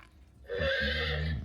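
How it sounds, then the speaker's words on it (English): A Playskool Alphie robot toy by Hasbro plays a single electronic horse neigh in factory test mode. The whinny is brief, clear and fairly close, with no talking over it. "The mommy horse can't find her foal."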